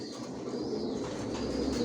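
Grizzle racer pigeons coo softly in a loft, low throaty murmuring coos that are faint and continuous, with no voices.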